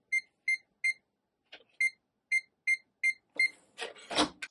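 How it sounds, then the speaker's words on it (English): A ZOYI ZT-102L multimeter in non-contact voltage mode, held near a power wire, gives a run of short, evenly spaced high beeps that end in a burst of rustling handling noise. "And here we can hear that beep since I'm holding it near a power wire."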